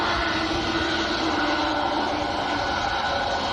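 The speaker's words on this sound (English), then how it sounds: "the EasyJet on our favourite taxiway is about to move forwards towards us" An EasyJet airliner taxis along an airport taxiway at Manchester Airport, a loud, steady broadband jet roar that holds constant throughout with no talk.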